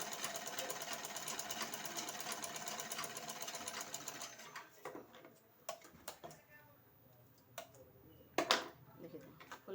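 A sewing machine stitching a blouse runs with a fast, steady mechanical whir for about four seconds, then stops, leaving scattered clicks and handling noises. The sound is faint and close.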